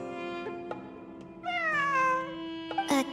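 A cat in Genshin Impact gives one drawn-out meow that bends downward in pitch, heard clearly over a steady background hum, with a sharper short cry near the end and no speech.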